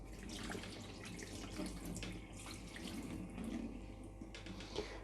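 Leftover mead and yeast sediment is poured from a demijohn into a sink, making a steady, faint gurgling splash of liquid that runs on without a break and with no talk over it.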